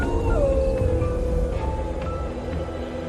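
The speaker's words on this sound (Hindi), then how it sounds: "कुत्ते रोने लगे।" Several dogs howl in long, wavering wails over a dense, steady wind-like rumble during a stormy night, the cries rising and falling and overlapping at moderate distance.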